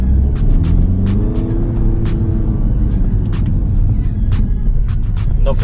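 A diesel car engine in sport mode drones and builds as it accelerates, a rising tone climbing over road rumble, with faint ticking clicks scattered throughout.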